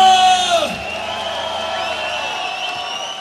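A party crowd at a fiftieth birthday celebration in a club shouts a loud collective cheer that swells at the start and fades into a lingering murmur of voices.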